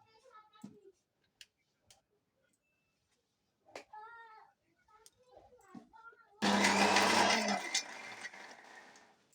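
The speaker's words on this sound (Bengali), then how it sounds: "এবার এটা মিক্সিতে দিয়ে সব ঘুটে নিই" A mixer grinder blends a ginger, onion, garlic and green chili paste, starting abruptly after a child's chatter and scattered talk, then roaring loudly and steadily for about three seconds before easing off.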